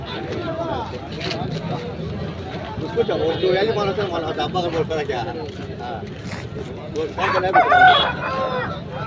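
A Kaki Nemili rooster weighing about 3.5 kg crows loudly and close at a busy Rayachoti market in Annamayya district, with clucks and human voices talking around it.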